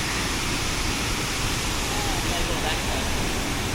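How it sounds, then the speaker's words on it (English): Waterfall at Minneopa State Park in Minnesota, a loud, steady, close roar of falling water filling the whole clip with no break. "So this is the waterfall."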